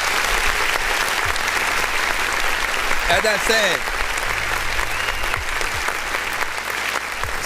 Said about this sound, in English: Let's clap real quick